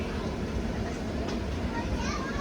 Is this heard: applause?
no